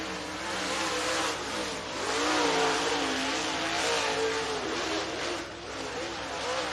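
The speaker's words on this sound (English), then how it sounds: "both those drivers on the racetrack coming around to get the green flag from Will Dykes" Race cars circle a racetrack at Duck River Raceway Park in Lewisburg, Tennessee, during time trials, their engines droning and rising and falling in pitch, loud and steady under a commentator's voice.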